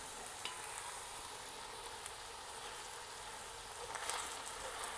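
Ground beef browning in a pan, a soft steady sizzle with faint stirring scrapes and small pops, quiet and continuous with nobody speaking.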